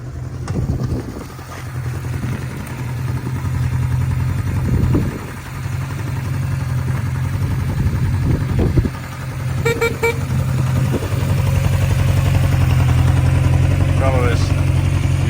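Honda CB750 Four K6 motorcycle with a 4-into-4 exhaust idling, a steady, loud, close rumble with a throbbing low tone that runs through the whole stretch, with someone talking over it.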